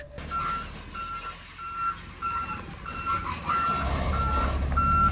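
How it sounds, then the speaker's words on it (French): A delivery truck hauling 14 tonnes of gravel arrives and reverses, its backup alarm giving steady, evenly spaced beeps over a low engine rumble that swells louder near the end. "Le camion tant attendu a enfin fini par arriver, pour notre plus grand plaisir."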